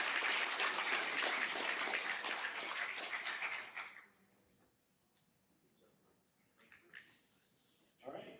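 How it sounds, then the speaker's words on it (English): A conference audience at a spring design challenge showcase applauds for about four seconds, a dense wash of clapping that then fades into a quiet room with a few scattered sounds. "Let's give everyone presenting another round of applause."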